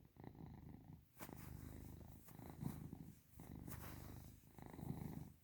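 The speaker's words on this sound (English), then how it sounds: "And you purr really loud." A pet cat purrs loudly and steadily while being petted, its rumbling coming in long pulsing breaths with brief pauses between, close and alone.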